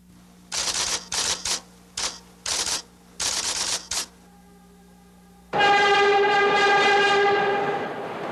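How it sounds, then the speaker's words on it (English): A New York City subway train: a run of sharp rhythmic metallic clacks, then a loud sustained tonal horn-like blare with rumble lasting several seconds, no voices. "New York City's subway system."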